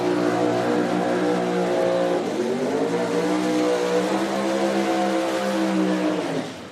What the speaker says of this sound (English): as the first pair here does the burnouts